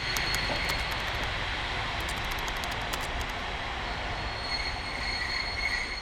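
A Mongolian overnight passenger train pulls into Ulaanbaatar station, giving a steady close rumble of rolling railcars with faint high wheel squeals and clicks over about six seconds, and no one speaking.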